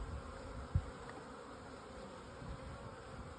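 Honeybees in an established hive on a cool day, nearly all at home: a steady, low, continuous buzzing drone, fairly faint, with a brief louder thump partway through.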